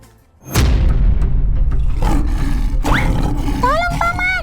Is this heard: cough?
no